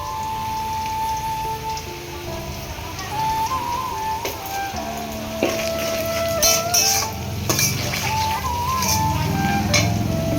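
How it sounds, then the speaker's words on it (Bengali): Chicken curry sizzles steadily in a pan as it is stirred and turmeric goes in, with soft scraping and frying crackle running throughout, close and moderately loud. "এটাকে একটু নাড়িয়ে দেবো, দিয়ে দেবো হলুদ"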